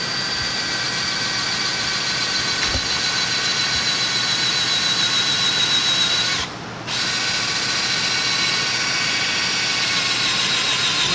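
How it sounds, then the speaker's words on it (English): A drill runs steadily, close and loud, boring pin holes through a new balancer into an engine crankshaft, with a high whine held for about ten seconds and a brief dip partway through. "So he's drilling these right now."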